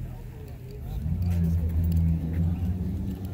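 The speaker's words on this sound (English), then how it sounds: "That's a Porsche." A Porsche GT3 sports car engine revs somewhere out of sight down the block at a car meet, a loud low growl that swells and holds under nearby chatter.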